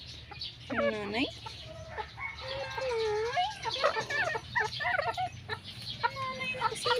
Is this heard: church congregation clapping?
no